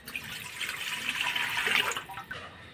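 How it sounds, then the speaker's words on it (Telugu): Water poured into a cooking pot for tomato rasam, a continuous close splashing pour that runs for a couple of seconds and then tapers off, with no talking. "ముందుగా ఒక డేక్షాలో వాటర్ వేసుకుందాం"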